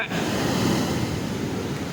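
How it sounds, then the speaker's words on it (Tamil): A steady, loud roar of water rushing at Sholayar Dam near Valparai, an unbroken wash of noise with no pauses or voices. "தண்ணியோட வேகத்தை பாருங்க"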